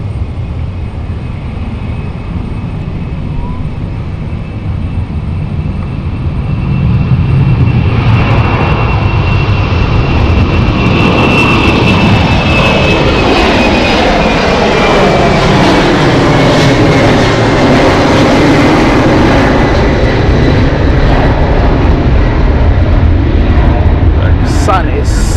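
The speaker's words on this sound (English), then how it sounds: "second time round, this is the Luxembourg flight" Airliner on the Luxembourg flight at London City Airport, the jet roar swelling loud around seven seconds as it passes close, with a falling whine sweeping down as it goes by, then a sustained rumble; a voice talks at times.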